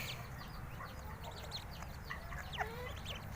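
Bantam chickens cluck softly in a few short, scattered calls against a quiet, low background, faint and at a moderate distance, while ducks may also sound nearby.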